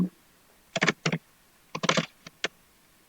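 Text being typed on a computer keyboard, a few quick clusters of close key clicks separated by short pauses.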